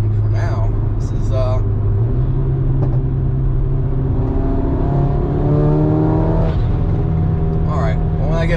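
An MK8 Golf R fitted with a DBV2 4-inch downpipe idles and revs with a steady loud exhaust drone, a few sharp pops breaking through while a person talks over it.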